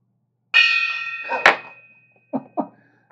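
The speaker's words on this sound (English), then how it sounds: "Gong Boy, you want to test the gong real quick? Make sure it's working." A struck gong rings out once with a bright metallic clang and a fading shimmer, followed by two shorter knocking thuds.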